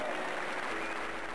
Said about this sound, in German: Ich habe Applaus gekriegt.